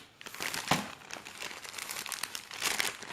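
Plastic fidget spinner packaging crinkling and tearing as a knife cuts it open, close-up rustling with a sharper snap near the start.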